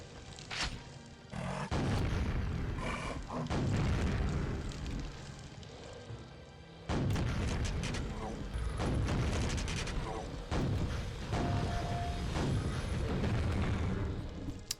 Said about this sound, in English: See, I'm using a lot of rockets